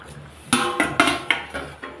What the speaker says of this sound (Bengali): ঢাকনা খুলে দিলাম।